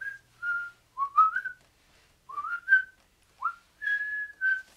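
A video game scene from Deadly Premonition with a whistled melody: short, bright, sliding notes in quick phrases separated by brief pauses, heard clearly against silence.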